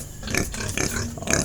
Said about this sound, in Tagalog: Ay yung mga baboy yun.